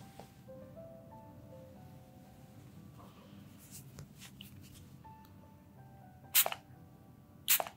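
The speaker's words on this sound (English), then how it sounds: "I will spray this on a cotton pad and apply it on your face." Two short, sharp hissing sprays of facial mist onto a cotton pad burst out near the end after quiet handling noises, close and distinct against a soft background.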